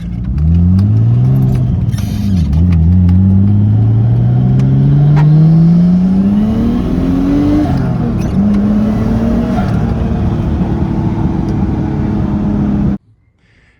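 A Nissan Laurel C33 with a K24 engine swap, loud and close, revving repeatedly as the engine note climbs and dips through several pulls before cutting off abruptly at the end.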